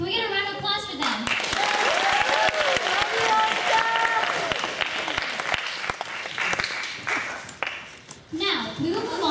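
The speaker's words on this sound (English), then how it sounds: "Can we get a round of applause for them?" A school audience applauds students at a high school event, a burst of clapping and cheering that swells and then thins out, with voices talking over it at the start and near the end.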